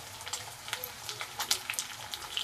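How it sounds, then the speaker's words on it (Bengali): Garlic and ginger paste frying in a pan gives a soft, steady sizzle with faint crackles and light stirring taps, close but quiet. "রসুনটা একটু কষে নেব"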